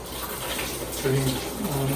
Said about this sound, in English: Rick is using our rice rinser to rinse out the split peas, the dried split peas. It fills up with water and it just rinses out the side.